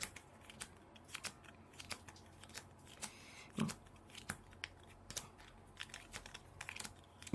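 Playing cards being dealt out to four players onto a table, a series of light, sharp snaps and flicks at an irregular pace, close and quiet, with no talking.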